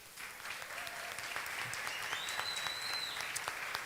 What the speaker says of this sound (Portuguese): Aplaudam a eles.